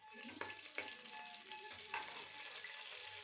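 Green chillies fry in a pan for chicken biryani, with a faint steady sizzle and a few light scrapes and taps from stirring.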